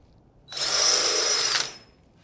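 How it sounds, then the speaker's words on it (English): A cordless drill cutting a hole on a dune buggy sand rail whirs in a single high-pitched burst of just over a second, close by, starting and stopping abruptly. "Using a cordless drill because the torque limiter on it will allow it to slip"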